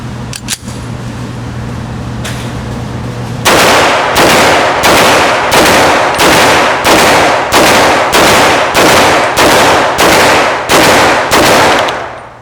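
G32 pistol firing a full magazine during a reliability test, a steady sequence of about fifteen loud, close, evenly spaced gunshots after a brief pause with faint handling sounds.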